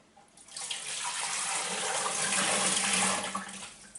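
About a litre of water pours steadily into a home autoclave while canning potatoes with meat, a close, continuous splashing stream that swells after a quiet start and tapers off near the end, with no talking.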